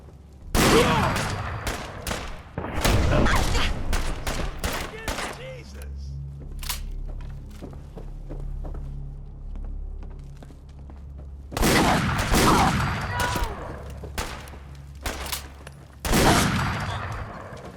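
Heavy gunfire in a Fallout 4 firefight: loud, close bursts of rapid shots at the start, a lull filled with a low droning hum and scattered faint pops, then more loud volleys later, with a voice shouting amid the shooting.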